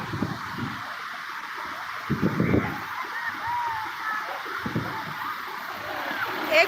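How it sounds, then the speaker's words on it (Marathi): Steady rushing water with a broadband wash of noise, continuous throughout, with occasional splashes and low gusts beneath. "असं खळ खळ असा एकसारखा आवाज येत आहे पाण्याचा"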